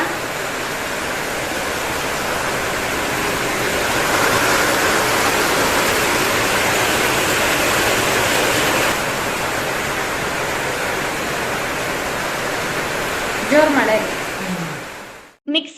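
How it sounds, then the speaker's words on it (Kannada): Heavy monsoon rain pours steadily outdoors, a dense, continuous hiss holding nearly constant for most of the stretch before a brief clatter of handling noises near the end. "ಜೋರ್ ಮಳೆ ಬರ್ತಾ ಇದೆ"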